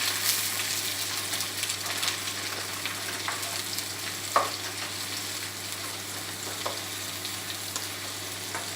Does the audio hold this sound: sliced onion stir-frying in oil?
yes